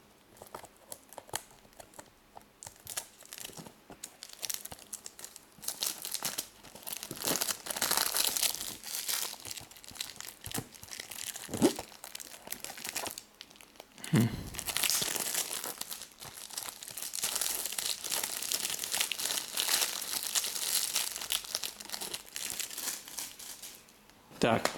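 A Counter-Strike Global Offensive game box is opened from the side with a small knife: steady close crinkling, tearing and rustling of packaging runs for about twenty-five seconds with uneven bursts.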